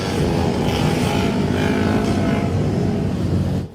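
ATVs (four-wheelers) drive through a city neighborhood, their engines giving a loud, steady, close roar that holds for several seconds and then cuts off abruptly.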